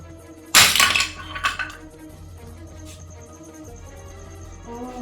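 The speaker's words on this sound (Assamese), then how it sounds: "কাপটো ভাঙিলা?" A cup breaks in a home kitchen, a loud, bright crash with clattering shards, followed by a smaller clink and then a low room hum with faint insect chirping.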